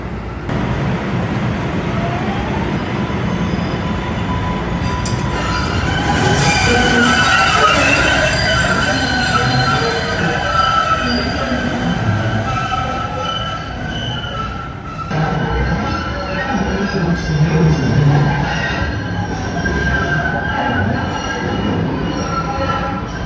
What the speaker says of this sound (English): 3 minutes till the train to Cleveland Circle